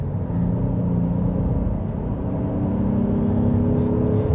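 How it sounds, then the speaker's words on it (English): A 2024 Honda Passport Black Edition with AWD and a V6 engine gives a steady, smooth low engine hum from inside the cabin while accelerating gently, with faint rising tonal whine and no talk. "let's go ahead and give it a little bit of gas here."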